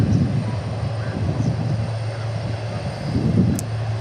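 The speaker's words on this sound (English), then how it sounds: "UPS 2906, a 767-300 that is going to Phoenix." A UPS Boeing 767-300 jet departing DFW airport: a steady, broad low roar that fills the whole stretch and swells slightly toward the end, heard from outdoors at a distance.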